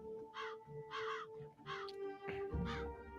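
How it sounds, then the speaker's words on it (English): Crows in the Minecraft video game caw in a series of four harsh, evenly spaced calls, fairly close, over a steady tonal game hum, with a low thump near the end. "Follow the crows."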